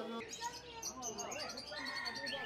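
Birds chirp and tweet in a busy bird market in Taiz, Yemen, with many calls overlapping close by over a steady background of crowd noise and people talking.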